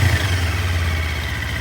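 A 2024 Kawasaki Ninja 500 SE fitted with a Yoshimura AT2 full exhaust runs close by, a steady loud engine note with a slight rise like a light blip of the throttle, no talking.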